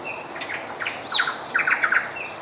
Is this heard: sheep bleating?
no